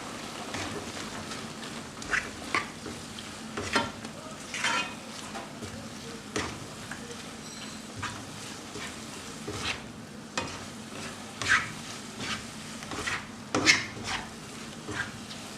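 Carrots and spring onions being stir-fried for vegetable soya chunk noodles, with a steady quiet sizzle broken by repeated scraping stirs of a utensil against the pan, close by and moderately loud.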